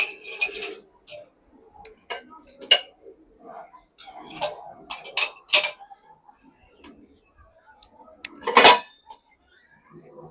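Plates, cups and a tea pot are set into the upper basket of a Bosch dishwasher, giving scattered clinks and taps of dishware spread over several seconds, with one louder clatter near the end.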